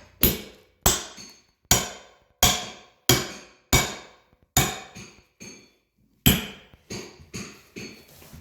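Sharp metallic hammer strikes ring out one after another at a steady pace, with a brief pause before a final quicker cluster of hits, as a hammer and pry bar work under the edge of a tile.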